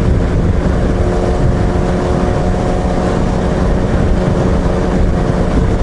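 Motorcycle cruising at 100 km/h, heard from inside a jet helmet as a dense, loud, unbroken roar of wind and engine rumble with no talking.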